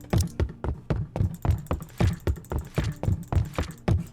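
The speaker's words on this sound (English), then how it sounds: "Stuck on footstep noises." Footsteps in the video game The Letter make a steady, evenly spaced series of hard thuds, about three per second, close and loud and repeating without a break.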